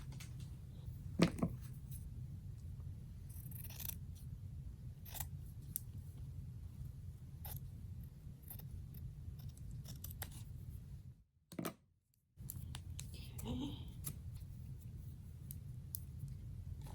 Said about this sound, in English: Let's cut some cheesecloth.